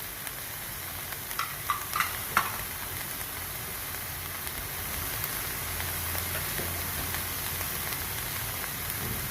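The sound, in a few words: stirring and mixing spices into chicken while cooking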